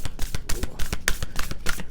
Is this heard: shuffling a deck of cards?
yes